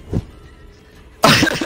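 Coughing from a person in a video game episode: one short burst near the start, a quiet gap, then a louder, rougher cough fit at the end, close and alone.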